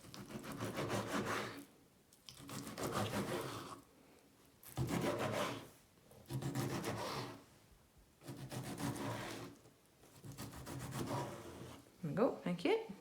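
A knife slices chicken breast into strips on a board in a steady series of soft, rasping strokes with short pauses between cuts, close and fairly quiet.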